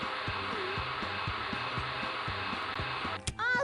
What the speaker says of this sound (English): Please click on the blow dryer.